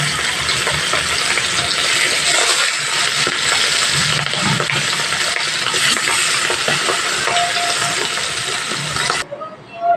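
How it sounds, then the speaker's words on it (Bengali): Bata fish frying in a pan, a loud dense sizzle near the mic with clinks and stirring noises throughout, ending abruptly near the close. "আবার একইভাবে ভাজতে দেবে"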